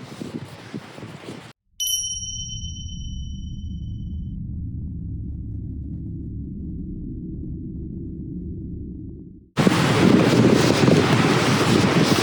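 A waterfall roars as a loud, steady broadband rush that cuts out briefly for a bright chime and a low, muffled rumble, then returns at full strength at the end.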